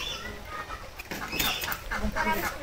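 A village chicken clucks in short bursts while briefly flapping its wings, fairly close and moderately loud, with no clear speech.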